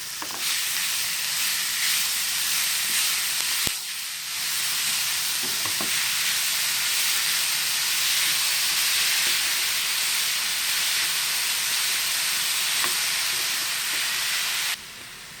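Grated carrot fries in a pan with a loud, steady hiss and sizzle. A spoon stirs it with a few clinks and scrapes, and the sizzle drops off abruptly at the end.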